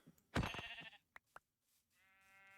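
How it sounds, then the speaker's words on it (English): Sheep in a video game bleat several times: one loud, drawn-out bleat, two short clipped calls, then a fainter wavering bleat at the end, each heard alone with no talking. "there's 3 sheep here"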